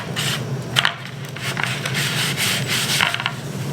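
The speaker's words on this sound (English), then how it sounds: "So I'm just going to rub these as I would if I was," Hands rub seasoning onto pork loin pieces in a steady, close scraping and brushing sound that runs continuously with a few brief bumps.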